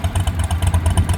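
Wheel Horse articulator tractor engine running close by, a loud, lumpy, rhythmic chug with a rapid pulsing beat and mechanical clatter.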